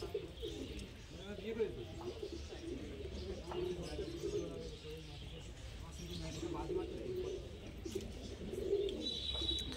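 Giribaj pigeons coo in repeated low, throaty, rolling phrases close by, steady throughout against faint background hiss and an occasional soft chirp.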